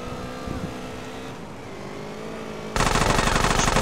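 Gunfire from GTA San Andreas erupts near the end as a loud, rapid burst of automatic shots, after a stretch of quieter game engine and traffic noise.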